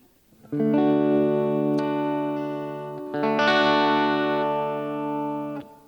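Sustained electric guitar chords through mini humbucker pickups, mildly overdriven, ring out in two long strummed phrases with a brief break between them, played alone.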